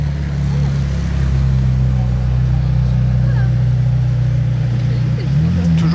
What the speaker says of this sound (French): On commence sur une STO McLaren Senna.